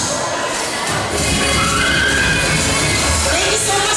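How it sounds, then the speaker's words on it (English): Audience shouting cheers for candidates at a denim presentation event, a dense, loud crowd roar of mixed voices and yells sustained throughout. "You can just loudly shout your cheer to the candidates."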